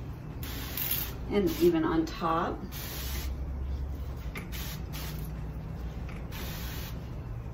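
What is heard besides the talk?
spray bottle spraying plants against aphids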